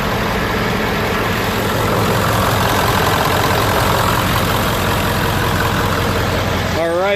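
A 1997 Ford F-250 truck engine runs at a steady, loud idle close by, a continuous low rumble with no break, with talk heard over it.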